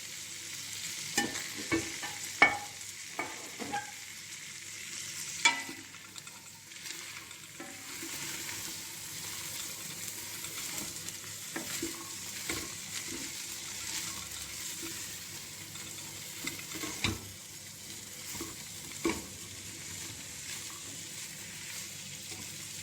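Boiled dried beans go into a pot for bean soup and are stirred, a quiet run of irregular knocks and scrapes of the spoon over a faint background hiss.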